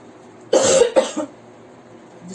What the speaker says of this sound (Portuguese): depois daquele de tosse